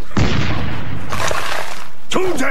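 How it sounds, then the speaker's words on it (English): A cannon fires in a 2004 Toontown Online TV commercial, a loud close boom with a crashing burst, followed by a second blast and cartoonish whooshing effects over music. "Tony's shooting himself out of a cannon"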